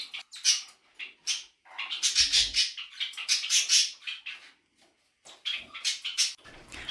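Large parrots screech and squawk in a home bird room alongside budgies, harsh shrill calls repeating in irregular bursts at close range with brief quiet gaps between them.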